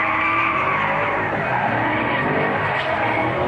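A drift car slides at a park track in Skien, its tires squealing and skidding loudly and continuously over a roaring engine, close by with no talking.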